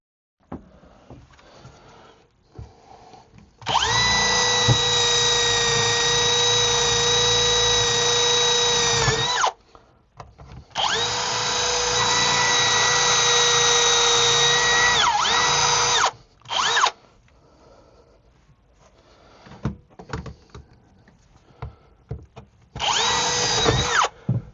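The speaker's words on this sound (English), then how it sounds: "I think I could probably take a jigsaw around some of that." A power jigsaw cuts around material at a sewage drilling job, running in two long steady buzzing bursts of several seconds each, then a short blip and a final burst, with quiet handling noise in the gaps.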